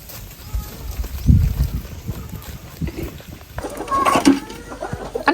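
Chickens cluck in a rural countryside farmyard: several short, loud bursts of clucking over outdoor background noise, with a person talking in between.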